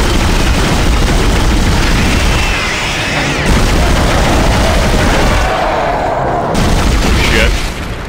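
Gunfire in the sci-fi horror game Dead Space, a dense, loud barrage of weapon shots and booms running continuously with game sound effects layered over it.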